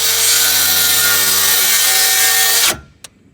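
A circular saw rips loudly and steadily through wood, then binds and abruptly cuts out, leaving near silence broken by a single sharp knock.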